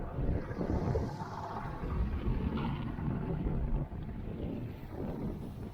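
A 1989 Montauk boat's motor drones on open water during a sea trial, mixed with heavy wind buffeting the microphone and splashing water, loud and continuous.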